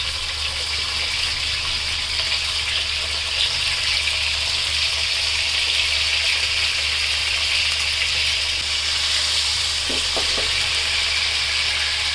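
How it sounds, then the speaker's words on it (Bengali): Chicken pieces fry in hot salted oil for a Bangladeshi chicken tehari, making a constant dense hiss that runs evenly and fairly loud throughout, with a few faint knocks near the end and no voices. "মাংসগুলা ভাজা হয়ে গেছে"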